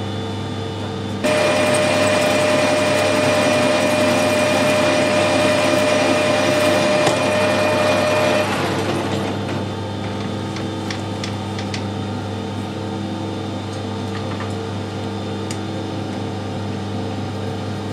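A worn pulley bore machined down to size on a lathe, a loud steady grinding whine with a high tonal ring that runs for several seconds, then drops to a quieter motor hum with a few faint ticks.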